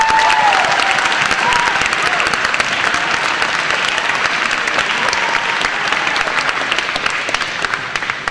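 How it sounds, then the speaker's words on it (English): Audience applause for a high school team at a national competition final, a loud sustained round of clapping from a large crowd that continues throughout. "let's hear applause for Darwin High School"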